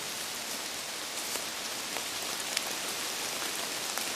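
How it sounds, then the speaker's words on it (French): Steady rain falls in a forest, a dense, even hiss of drops with scattered sharper patters close by, continuous throughout. "Mais aujourd'hui ça va, il pleut."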